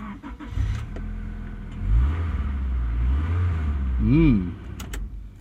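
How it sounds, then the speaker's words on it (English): A 2-litre Honda F-series car engine cranks and catches, then idles with a low, steady rumble that briefly rises in a rev before settling again. "The car fires up nicely enough though. We'll just start her up."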